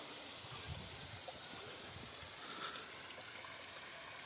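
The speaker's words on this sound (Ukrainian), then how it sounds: "Бачите, як воно там вода зливається" Water sluicing down through the sieves of a pumpkin combine, a DTZ 354U tractor rig fitted with a forced watering system, gives a steady, fairly quiet broadband hiss and gush with no talking.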